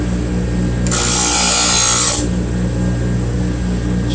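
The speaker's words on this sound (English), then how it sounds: "This wheel's cutting so good." Bench grinding wheel hollow grinding a steel plane iron outdoors, a steady motor hum with a loud bright grinding burst of about a second and a half in the middle.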